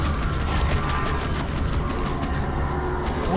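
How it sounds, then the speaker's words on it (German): An infinite-ammo nail gun in Condemned 2: Bloodshot fires in a dense, continuous rattle of mechanical bursts, loud and steady throughout amid combat noise. "jetzt muss ich mich mit der Nagelpistole verteidigen"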